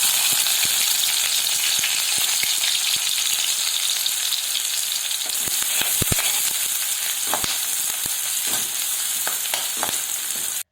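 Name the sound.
mustard seeds, curry leaves, onion frying in oil in pan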